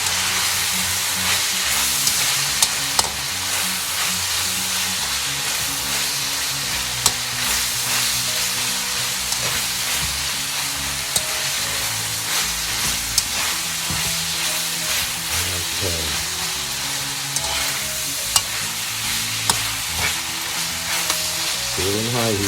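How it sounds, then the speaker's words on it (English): Beef browns in rendered oil over high heat, a loud, steady sizzle and crackle with occasional stirring scrapes, continuous and close throughout. "Still in high heat. Kind of browning them up too. At the same time, just browning the meat."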